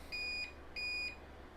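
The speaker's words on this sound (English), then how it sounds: "And it's beeping again." Two identical high-pitched electronic beeps from an APC Back-UPS ES 550 battery backup, each about a third of a second long, spaced evenly apart over a faint low hum.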